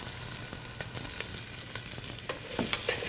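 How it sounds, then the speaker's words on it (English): Onions saute in a tablespoon of olive oil, sizzling steadily at moderate volume with scattered crackles and pops and occasional stirring clicks, with no voices. "we're going to saute 2½ cups of onions"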